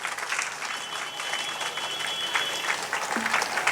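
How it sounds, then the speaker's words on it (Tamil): An audience at a devotional talk at a Periya Mariamman temple claps for a child, dense steady applause that fills the whole stretch at close range. "நல்ல கைத்தட்டு கொடுங்க இந்த பிள்ளைக்கு"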